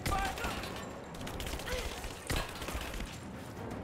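Gunfire in the video game Rise of the Tomb Raider, a dense, faint rattle of shots with a sharper burst partway through, heard under game ambience.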